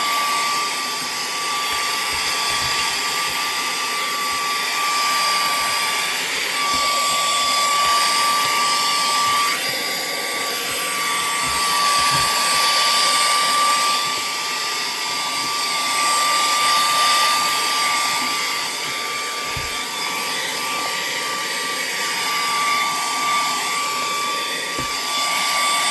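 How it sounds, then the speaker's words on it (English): A small shop vac running continuously to suck up resin debris from ceramic coaster resin art, a loud, steady whine with a high tonal hum that holds for the whole stretch, no voices. "I'm going to use my little shop vac thing again. My mini vac."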